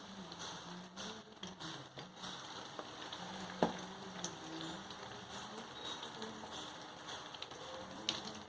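Chicken kebabs fry in hot oil with a soft, continuous crackling sizzle, faint and fairly distant, broken by occasional taps and one sharper clack partway through.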